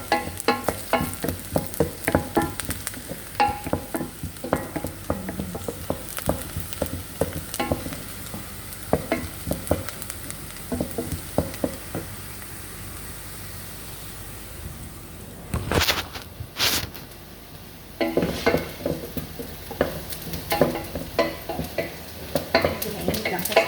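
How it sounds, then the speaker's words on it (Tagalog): Meat and garlic browning in a hot pan for laham salona, with sizzling, frequent scraping stir strokes and a brief clatter of cookware, fairly close and continuous, with no voices. "ako na ilalagay ngayon yung bawang para sabay na silang mag-brown"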